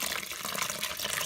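Water pours steadily into a bowl for homemade bread dough, a dense continuous splashing rush that stays loud and close throughout the short moment.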